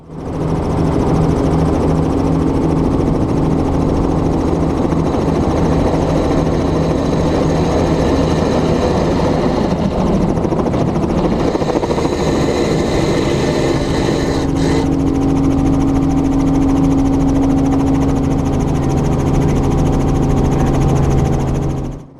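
A training helicopter dragged forward along the ground until it lifts off, its engine and rotor droning loud and steady at close range throughout, with a faint rising whine and no talk.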